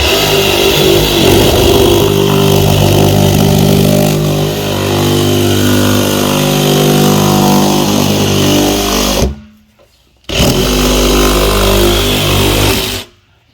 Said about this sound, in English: Now either use a trusty jigsaw, sawzall, and cut right across the seam line on the bottom.